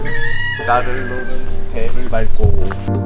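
A rooster crows loudly and close by, with clucking fowl around it while someone talks over the sounds.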